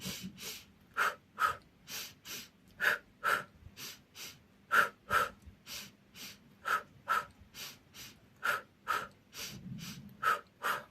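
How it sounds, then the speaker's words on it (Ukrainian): Children doing a group breathing exercise take repeated audible breaths in and out, about twenty airy puffs in a steady rhythm, close and fairly soft, with no talking over them. "Ще раз вдох робимо і видих."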